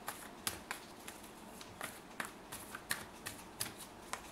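Tarot cards are shuffled by hand in a steady series of crisp, close riffles and flicks. They recur every half second or so, with no voice over them.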